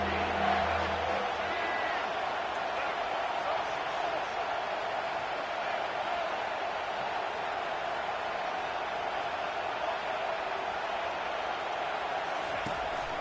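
Broad steady roar of a stadium crowd in a Madden football video game, a continuous wash of cheering noise with no breaks, loud and even throughout.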